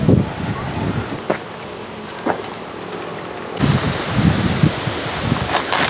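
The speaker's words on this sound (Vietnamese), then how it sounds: "gió bắt đầu đến và mưa đến rồi đây" Wind gusts rise ahead of a heavy rainstorm at a rural house under construction, a loud broadband rush that surges and buffets the microphone in bursts, growing stronger midway, with no clear speech.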